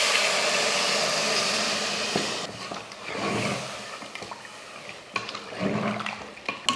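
Water pours into a pan of sautéed mutton curry masala, a broad rushing splash at first that gives way to bubbling, clinking and stirring noises.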